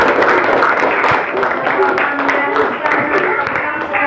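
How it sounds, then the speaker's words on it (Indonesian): A classroom of students claps for a classmate, a dense, fairly loud patter of many hands heard close by, mixed with children's voices and chatter throughout. "tepuk tangan dulu buat Eti"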